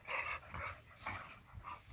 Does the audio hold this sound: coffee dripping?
no